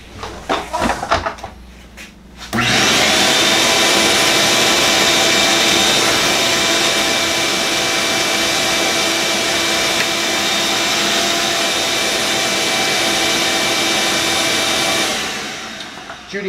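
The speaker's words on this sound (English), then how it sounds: "All right, Judy, the vacuum is already plugged in. Just turn it on and vacuum this whole area there." A vacuum cleaner in a workshop, used to clean up around a resin desk top project, switches on after a few clattering knocks. It holds a loud, steady roar for about twelve seconds, then winds down.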